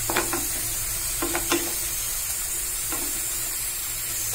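Rajma masala sautés in a pan with a steady hiss and sizzle, and a few sharp clinks and scrapes come from a spoon stirring it, heard near and alone.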